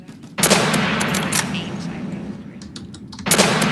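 Gunfire in the Roblox shooter Call of Robloxia comes as two sharp, loud reports, one near the start and one near the end, with a faint burst of smaller shots between them.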